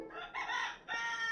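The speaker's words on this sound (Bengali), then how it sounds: "এগুলা বাহামা মুরগির বাচ্চা, আজ 32 দিন বয়স।" Young Bahama-breed chickens, 32 days old, give a short, fairly faint pair of harmonic crowing calls, the second following a brief gap, with no talking.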